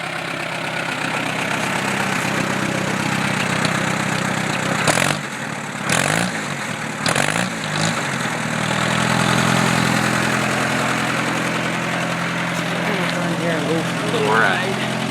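A 1947 Allis-Chalmers C tractor idles steadily after a cold start, a close, continuous low chug with a few brief louder bursts partway through.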